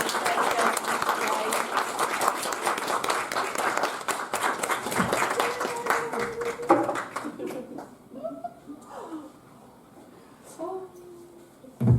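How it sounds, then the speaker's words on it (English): Audience applause after a speaker's talk, a broad wash of clapping in a room that fades partway through, leaving scattered claps, a few voices and a cheer near the end. "Massive round of applause for Sherry."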